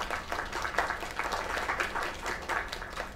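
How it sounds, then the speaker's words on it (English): Continuous crowd applause for a singer at a performance, an even rush of many hands clapping at moderate volume with no break. "Another round of applause"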